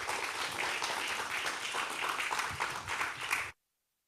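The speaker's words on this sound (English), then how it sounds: "please welcome him with a big round of applause" A conference audience applauds to welcome a speaker at a symposium on carbon-neutral agri-food systems, with steady, dense clapping that carries at an even level and then stops abruptly.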